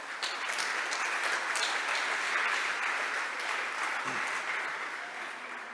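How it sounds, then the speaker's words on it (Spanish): A church congregation at a Casa de Dios El Shaddai service claps for the Lord, a steady, even wash of many hands that carries on without a break at moderate volume, with a brief low thump partway through. "Puede darle unos aplausos al Señor."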